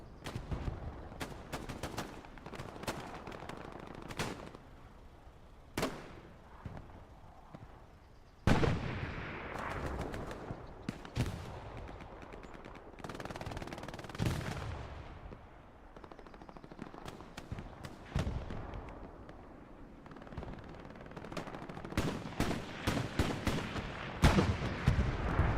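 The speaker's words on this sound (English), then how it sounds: "I think the tank is trying to shoot its way out of there now." Heavy battlefield gunfire in the video game Hell Let Loose with a tank firing its gun: dense machine-gun bursts and rifle shots, broken by several loud, booming cannon blasts spread across the stretch, with no talk.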